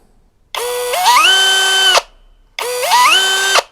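Mensela ED-LX2 brushless impact drill, battery-powered, spins up twice on its variable trigger, each whirring burst rising in pitch, holding for about a second, then winding down, loud and close with no talk.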